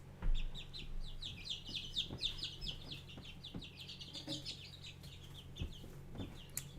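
Backyard chickens cluck and chatter in a run of short, rising calls, close by and fairly steady, with a low background hum and faint knocks underneath.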